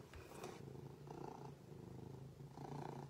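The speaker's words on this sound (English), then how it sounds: "You can hear him purring up a storm." Nebelung cat purring loudly and steadily up close, a continuous rumbling purr with rhythmic breathing swells, carried in someone's arms.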